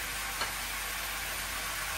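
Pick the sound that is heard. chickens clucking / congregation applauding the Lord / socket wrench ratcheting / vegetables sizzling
vegetables sizzling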